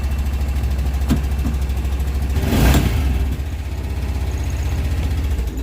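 A Honda Pioneer utility vehicle engine runs steadily up close after its starter solenoid is jumped with the key held on, a continuous low rumbling idle that swells briefly midway before settling back.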